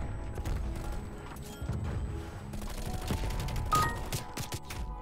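Rapid gunfire from a first-person shooter game, with bursts and single shots from various guns including a Stoner, Bullfrog, LW3 Magnum and XM4, crackling steadily throughout amid clattering game effects.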